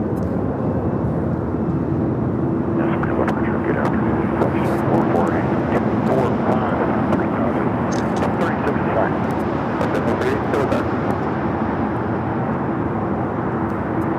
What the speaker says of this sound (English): the flight heading back to Taipei in this 777-300ER, passing by the old Terminal 5